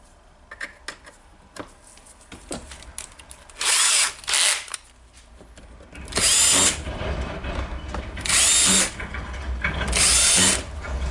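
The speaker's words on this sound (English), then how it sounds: "now the housing fits here, so I will screw the screws here" A power tool drives screws into the housing of a DeWalt DCN692 nailer. It gives four loud, whining bursts of a second or less each, separated by clicks and handling noise, close up and with no talking.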